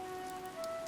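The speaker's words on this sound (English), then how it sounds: "This rain threatens a coming storm." Steady rain falling in the Fire Emblem: Three Houses game world, a soft continuous patter that stays even and fairly quiet throughout, with a sustained musical tone running beneath it and no voices.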